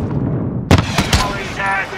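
A grenade blast in the shooter game Call of Duty Modern Warfare during an embassy siege, one sudden loud burst followed by a few cracking gunshots and a rumbling tail, close and forceful.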